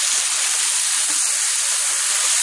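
Steam hisses in a continuous, loud, even rush while Szechuan sriracha sauce cooks, with no pauses and no talk.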